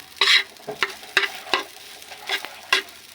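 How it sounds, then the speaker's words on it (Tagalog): Sinangag, garlic fried rice with salty dried fish (tuyo), being stir-fried in a pan for breakfast: a steady sizzle broken by about six sharp scraping strokes of a spatula against the pan, close and fairly loud, with no talking. "Para na rin akong nagsangag ng kanin"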